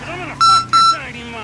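A mobile phone gives two short, loud electronic beeps in quick succession, while someone talks underneath.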